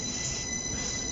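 A train pulls away across an old viaduct, its wheels giving a sustained high-pitched squeal over steady rumbling, close and continuous with no voices.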